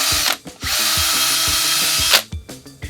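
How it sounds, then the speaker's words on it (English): A power drill bores a hole through the end of a box, loud and close, with one long whining spin-up bracketed by short bursts and brief pauses between. "We need to drill a hole in the end of the box to get our two lead wires out."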